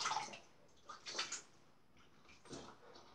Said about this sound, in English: Now, I'm just going to rinse a bit more.